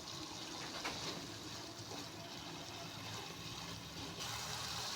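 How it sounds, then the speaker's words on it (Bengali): Water pouring into a pan of cooked-down mustard paste for a mustard hilsa curry, a steady broadband gush that runs evenly for the whole stretch with no voices over it. "এখানে আমি একটু পানি দিয়ে দিলাম।"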